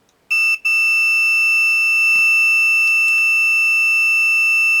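Multimeter in continuity mode probing a short circuit on an Amiga 2000 board, a steady piercing electronic tone that starts, breaks briefly, then holds continuously, close and loud.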